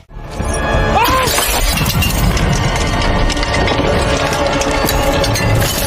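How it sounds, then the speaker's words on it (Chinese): A loud crash of breaking glass bursts out, then a dense, noisy churn of rattling and rumbling carries on steadily. "瓶子被刺穿了，必须马上将其送到海上，但还在半路，杰克就将它摔碎了。"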